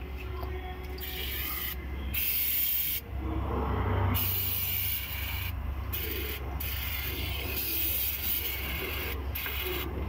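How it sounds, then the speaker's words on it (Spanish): Penetrating oil is sprayed onto the wheel nuts of a Nissan Urvan NV350 van, giving a steady close hiss in several spurts with brief pauses over a low background hum. "procedemos a aplicar un poco de afloja todo"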